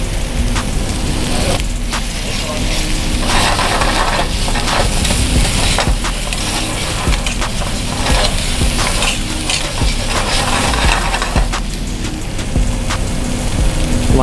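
Loud, steady sizzling and crackling from red chili frying in a hot pan, with occasional stirring scrapes, and no talking.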